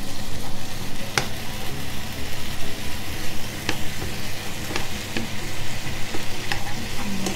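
Minced pork for Isan-style larb sizzles and crackles steadily in a hot pan, with occasional sharp scrapes of stirring over a loud, continuous frying hiss.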